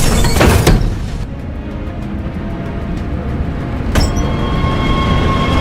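Train in a film scene, a loud rumbling rail carriage with rattling and a couple of sharp metallic clanks, continuous and close throughout.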